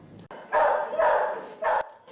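Greyhounds at a greyhound adoption program barking in three short loud bursts, close by, with a whimper and no talk.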